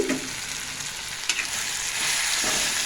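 Chili powder and coriander powder are stirred into a frying spiny bitter gourd curry. A steady close sizzle runs throughout, with a few light spatula scrapes against the pan and no voices.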